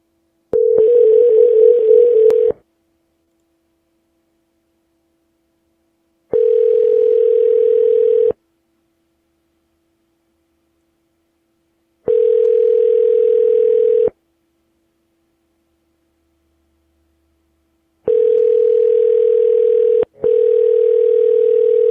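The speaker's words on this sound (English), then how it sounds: "Let's call Carrie up" A telephone call rings out through a handset in steady, evenly spaced tones of about two seconds each, five rings with silent gaps between, before the call goes to voicemail.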